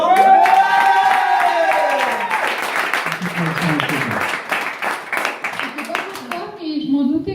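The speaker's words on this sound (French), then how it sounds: "On peut l'applaudir, non?" An audience at a festival bursts into rhythmic clapping and cheering for a mother being honoured, with close sharp claps repeating through the stretch, over excited voices and a child's speech.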